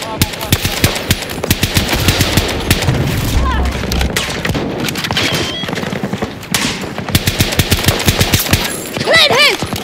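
Rapid BSV-M rifle fire in Battlefield 2042 rattles in dense bursts amid other battlefield gunshots and booms, loud and close, with shouted voices mixed in.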